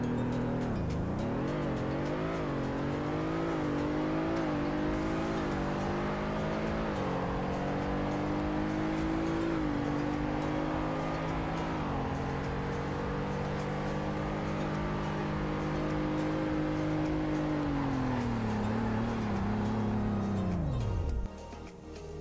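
In the Roblox game Greenville, a car's engine note climbs steadily through a long series of gear shifts, holds at high revs for a stretch, then drops sharply as the car brakes to a stop.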